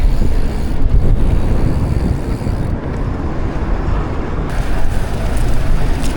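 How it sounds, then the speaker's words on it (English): Strong wind buffets the microphone while cycling on the Ipswich Motorway Cycleway in Queensland, a steady low roar and rumble, constant and loud throughout. "Man, it's a windy day today."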